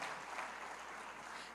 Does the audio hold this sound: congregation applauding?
yes